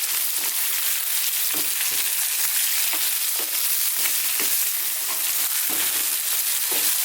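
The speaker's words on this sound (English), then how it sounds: "we're now going to go for about 4 minutes, high heat, stirring all the time now" Lamb mutton pieces with sliced onions stir-fried over high heat, producing a loud continuous sizzle punctuated by regular scrapes and knocks of constant stirring.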